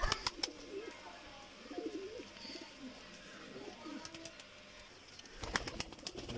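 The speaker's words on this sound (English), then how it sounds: "I'm gonna show you my lot of pigeons." Pakistani teddy high flyer pigeons coo softly in a loft, low rolling calls repeating through the clip with faint rustling and a few sharp knocks near the end, fairly quiet overall.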